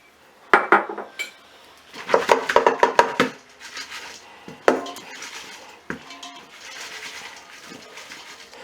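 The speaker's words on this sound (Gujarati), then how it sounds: "આપણે વાસણને ઉપર નીચે કરી અને ગુંદાને ફેરવવાના રહેશે." Gunda berries tossed with turmeric in a metal vessel for pickling, giving bursts of clattering and rattling as the pot is shaken, with quieter scraping between the bursts.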